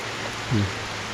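Rain falling outdoors, a steady broadband wash of drops that holds evenly throughout, with a brief low tonal sound partway through.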